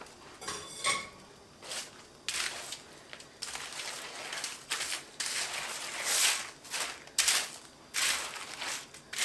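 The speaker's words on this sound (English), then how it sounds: "stir the rest of the crackers into it on the pan like I do my Sweet Texas Chex Mix." Crackers are stirred into a coating on a pan with a utensil, giving repeated scraping and clattering strokes in an uneven rhythm, close and fairly quiet, with no talk.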